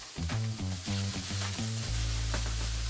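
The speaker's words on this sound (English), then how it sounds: "Getting a nice char on the calamari as well" Calamari sizzling in hot oil in a pan, alongside shrimp for seafood japchae, with steady close frying hiss and a low hum throughout, no talking.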